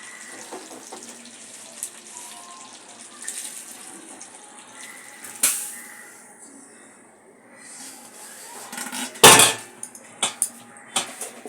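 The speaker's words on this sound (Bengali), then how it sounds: "এই গরম জলটাই আমি এতে ঢালবো" Hot water is poured into a pot of cooked skin-on chicken curry, a soft splashing pour punctuated by a few sharp metallic clinks of utensils against the pot, all fairly close.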